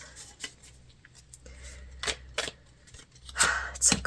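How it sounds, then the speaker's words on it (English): Tarot cards being shuffled in bursts of soft riffling and slapping, close and moderately loud, with faint quieter handling between the bursts. "So as I'm shuffling out your cards"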